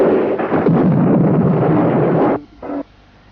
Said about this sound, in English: Biafran positions at Awara suddenly come under fierce artillery bombardment.